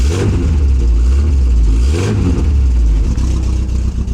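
Peugeot 206 engine running on LPG after starting, a loud close engine with rising and falling revs and low rumble, steady throughout with no talk.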